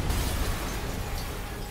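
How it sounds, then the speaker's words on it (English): An explosion in a Spider-Man video game rumbles as a dense, loud, low roar that fills the short moment and slowly eases off, with no talk over it. "Yuri, an explosion just..."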